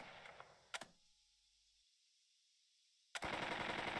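Machine gun fire in the WWII tactical game Burden of Command: a short burst early on, then a near-silent pause, then a sustained loud rattling volley at the end.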